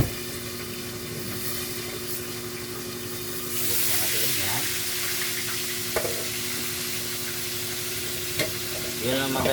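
Fish fries in a pan with steady, close crackling and sizzling while it is stirred, and a voice is heard faintly underneath.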